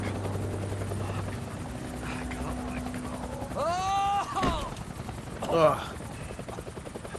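A helicopter in the Max Payne 3 video game drones steadily with a loud rotor hum. Brief grunts and a few sharp game sounds break in partway through.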